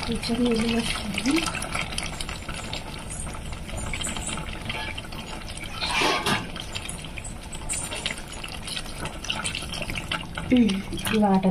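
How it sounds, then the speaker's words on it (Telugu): Water poured into a pan of spicy fish curry cooking with chilli, salt and oil, a steady liquid pour and bubbling under ongoing talk with clatter of utensils. "కొంచెం నీళ్ళు వేసుకొని"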